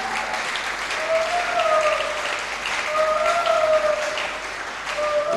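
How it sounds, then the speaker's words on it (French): A church congregation applauds and cheers during a sermon, with steady crowd clapping and a few higher voices calling out over it, rising and falling slightly across the span. "Est-ce que je peux passer sous vos acclamations?"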